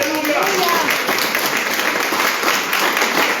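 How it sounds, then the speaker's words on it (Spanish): A church congregation applauding the Lord during a service, a continuous wash of clapping with a voice briefly heard at the start. "Denle un fuerte aplauso al Señor"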